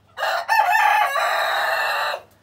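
A pet rooster gives one loud, close crow lasting about two seconds, with a brief break near the start, over a quiet background.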